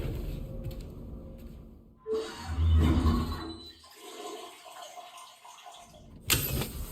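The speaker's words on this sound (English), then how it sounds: "let's use the toilet and shower" A toilet flushing and shower water running in the game RimWorld, a gurgling rush that swells, fades into a softer trickle and ends with a brief bright splash.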